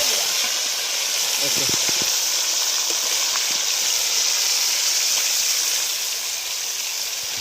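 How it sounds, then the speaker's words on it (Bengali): Chicken pieces frying in hot oil in a kadai at a winter picnic in the Sundarbans, a steady loud hiss and sizzle throughout, with brief talk over it. "এবার কিন্তু চিকেনগুলো ভেজে নেব"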